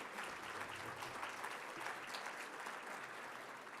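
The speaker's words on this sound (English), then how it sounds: "please join me in a round of applause" Steady applause from a large crowd fills the whole stretch, dense clapping at an even level throughout.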